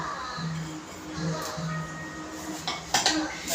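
Jaggery is poured into a mixer jar amid sharp, bright clinks of metal utensils, with a few louder knocks near the end. The sounds are close and moderately loud over a soft background.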